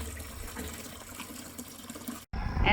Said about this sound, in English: Pouring some more of the grapes in on the top.